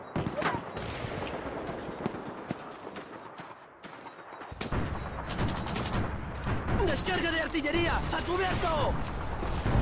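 German artillery fire booms in Call of Duty 2 on PC, loud and continuous, mixed with rattling gunfire while soldiers shout over the battle.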